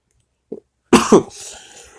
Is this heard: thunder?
no